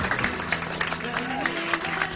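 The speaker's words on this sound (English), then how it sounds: "Let's round of applause for the nurses." An audience at a comedy show claps for nurses, a dense spread of hand claps with crowd noise and a voice talking over it.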